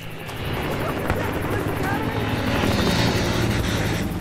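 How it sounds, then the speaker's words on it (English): A scout helicopter's rotor drone builds and thickens over a few seconds in Battlefield Hardline, mixed with game engine noise and a voice speaking briefly. "Scout chopper incoming."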